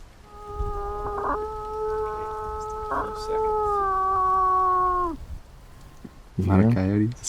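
Several coyotes howl together outdoors, long sustained wavering tones rising and falling for about five seconds, followed after a pause by a burst of overlapping yips and higher howls.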